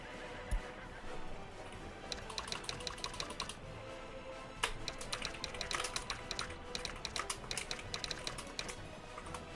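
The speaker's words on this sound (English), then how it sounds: "We've got our horse flatbeds coming in here." Horse-drawn flatbed wagons arrive in the Workers & Resources video game, heard as rapid clattering hoof clip-clops and wooden clicks that come in dense bursts over a quiet ambient bed.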